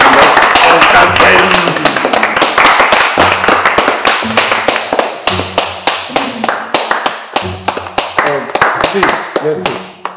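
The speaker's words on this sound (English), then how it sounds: "A round of applause." A gathering gives a round of applause, starting as dense clapping that thins into sharp, separate nearby hand claps. Voices speak underneath.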